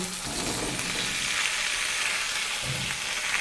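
Young jackfruit tipped into potatoes already frying in oil, a loud continuous sizzle with faint scrapes and clinks of stirring, close and without talk.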